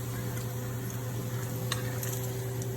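Bacon frying in a pan on a breakfast stove, a steady low sizzle and crackle with a constant hum beneath and a single sharp tick near the end, close and fairly quiet, no voices.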